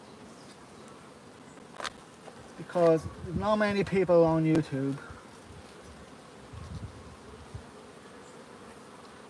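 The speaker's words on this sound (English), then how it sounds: "5 frames of bees there." Honey bees on hive frames at an apiary in July make a faint, steady buzzing that runs under a person talking nearby.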